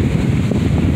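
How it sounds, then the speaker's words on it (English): Loud, constant wind buffets the microphone with a deep rumbling roar that never lets up. "it's too windy here and it's very cold"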